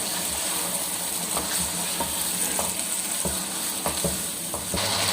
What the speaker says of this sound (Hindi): इसकी अच्छी तरीके से बुनाई कर लेंगे।